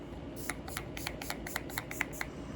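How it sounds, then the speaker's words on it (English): A Garnier Fructis Aloe Face Spray mists in a quick series of about nine soft, crisp spritzes at a steady pace, close and fairly quiet, with no talking. "I'm gonna be using my Garnier Fructis Aloe Face Spray"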